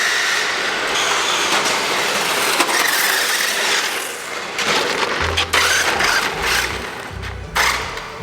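A cheap toy-grade RC drift car on drift wheels whirring along, a buzzy mechanical rattle of small gears and motor, steady and close, with a lower grinding pulse in the later part.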